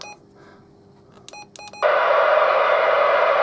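A CB radio gives a few short electronic beep tones, then a loud burst of steady hissing static fills the rest, with no voices.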